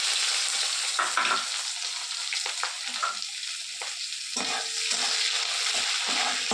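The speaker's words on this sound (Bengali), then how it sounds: "পেঁয়াজটা লাল লাল করে ভাজা হয়ে গেছে" Chopped onion sizzles in hot oil in a pan alongside ginger-garlic paste, chilli, cumin and coriander powder and tomato, a continuous crackling fry broken by repeated scraping stirs.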